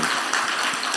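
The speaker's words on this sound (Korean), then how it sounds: "우리 격려의 사랑의 박수 한번." A church congregation applauding, with dense, steady clapping from many hands that fills the room at moderate loudness. No voices stand out over it.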